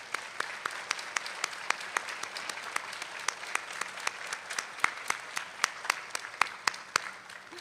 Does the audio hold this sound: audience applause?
yes